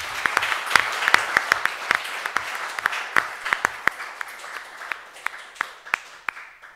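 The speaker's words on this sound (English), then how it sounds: "we should give Marielle, Chan, and Nino a round of applause." A crowd applauds with steady clapping that gradually thins out and fades toward the end.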